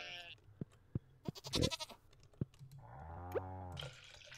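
Goats bleat on the farm in the Stardew Valley video game, a couple of drawn-out cries among clicks and dripping game sounds, with a soft melodic chime.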